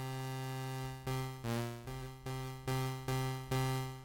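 The default patch of Ableton Live's Analog synthesizer plays a series of about eight sustained buzzy notes, each starting with a soft swell, in a simple stepwise sequence, alone and moderately quiet.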